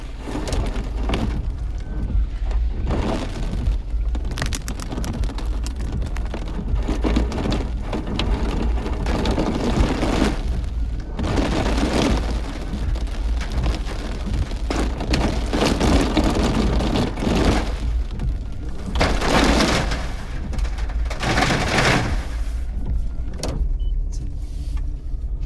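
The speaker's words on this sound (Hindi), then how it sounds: "बारिश" Steady rain drums on a car roof from start to finish, a dense continuous patter with occasional louder gusts, no talking.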